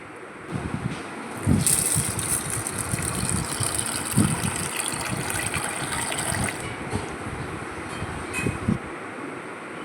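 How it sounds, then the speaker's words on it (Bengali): Chana and arhar dal lentils being washed together in water, making soft rattling and swishing with repeated sloshes as the grains are stirred by hand, close and moderate in level. "দুটো ডাল একসাথে মিশিয়ে একটু জল দিয়ে ভালো করে পরিষ্কার করে ধুয়ে নিব"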